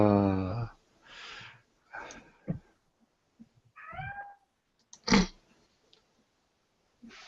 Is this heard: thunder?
no